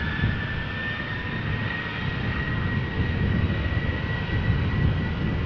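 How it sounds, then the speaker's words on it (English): A KLM Boeing 737-800 jet departs Schiphol Airport in Amsterdam, bound for Stockholm, its engines giving a steady, broad roar with a thin whine on top that holds at an even loudness throughout, with no voices. "flight 1109, going 737-800, going to Stockholm"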